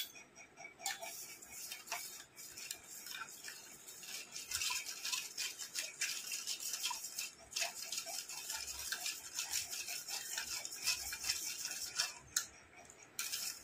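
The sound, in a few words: stirring watermelon ice cream mixture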